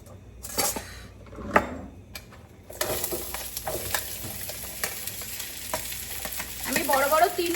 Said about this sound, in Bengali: এর মধ্যে আমি পেঁয়াজটা ছেড়ে দিলাম।